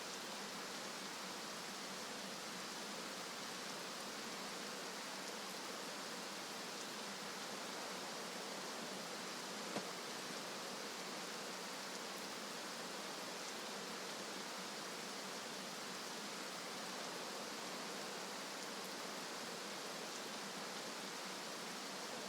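Heavy video-game rain pours in a dense, even hiss that fills the whole stretch, loud and unbroken, with no other sound standing out.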